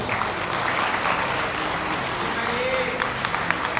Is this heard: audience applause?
yes